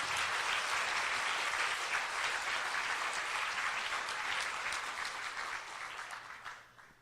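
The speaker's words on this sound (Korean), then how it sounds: "박수 한번 부탁드릴게요." Sustained applause from a concert audience at a small memorial music event, dense clapping that holds steady and then tapers off toward the end.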